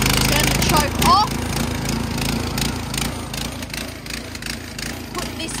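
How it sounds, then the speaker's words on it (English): A small gasoline motor pulled to start after fuel and choke are set, then running with a steady close-up engine drone and rhythmic chugging, a brief rattling surge near the start. "That's how you start a motor."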